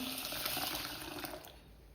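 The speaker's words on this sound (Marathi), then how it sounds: "डाळी धुण्यासाठी पाणी ओतून घेऊ" Running water pours steadily over mixed lentils for washing for about a second and a half, then thins to a quieter trickle; no voices.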